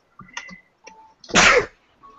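A man sneezes once, loud and close, a short burst after some faint murmuring, then quiet.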